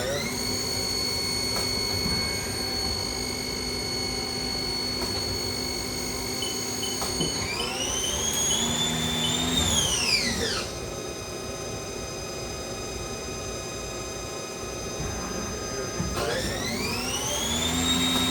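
A 2006 HAAS SL-10 CNC lathe spindle running, a steady whine with hum and tones that rise and fall as the speed changes, while a voice talks over it.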